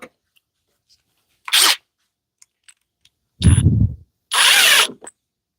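Cordless impact driver sinking 6-inch screws, with three short bursts of whirring and hammering separated by silence and a few faint ticks.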